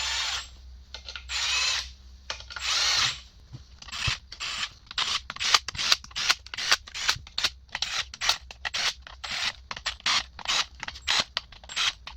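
Bolts run down with a power tool on the TCU cover of a BMW ZF6HP28X transmission: a long burst, then many short, sharp, close whirring bursts in quick succession, each stopping abruptly, with no talk.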